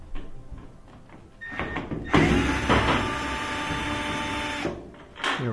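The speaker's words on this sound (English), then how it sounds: "We're going to take out two screws that are holding the top on." A power screwdriver backing long Phillips head screws out of the top of a clothes dryer, with a sustained whirring drone lasting a few seconds and short mechanical rattles before and after.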